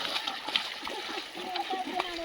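People splash and slosh through flooded paddy water during rice transplanting in the hills, with close, irregular splashes and water movement mixed with voices talking throughout.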